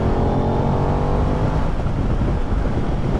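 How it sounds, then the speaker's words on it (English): Steady road and engine roar heard from a motorcycle as a truck overtakes at highway speed, a loud broadband rush of wind and motor noise throughout with a slight swell as the vehicle draws alongside. "I'm gonna get overtaken here by a truck."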